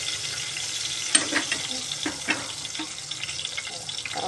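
Spices crackle and spit in hot oil in a pan while taro-leaf curry is cooked, a steady hiss with scattered sharp pops close by and no talking.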